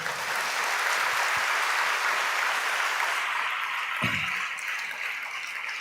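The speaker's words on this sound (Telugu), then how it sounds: "సంతోషంగా అందరూ ఒకసారి చప్పట్లు కొట్టి దేవుని మయంపరచండి" A church congregation claps together in praise, a dense, steady wash of applause filling the room at even loudness throughout.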